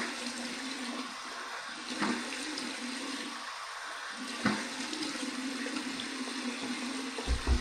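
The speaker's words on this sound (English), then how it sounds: "I'm just letting the cold water run a little more." Cold tap water runs steadily into a bathroom sink for a shave rinse, a constant close hiss and splash with a few brief clunks near the end.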